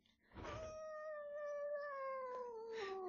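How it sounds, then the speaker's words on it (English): A pet cat gives one long, drawn-out meow close by, its wavering tone held for over two seconds in a quiet room, with a faint rustle at the start. "let me introduce my cat, Tilly."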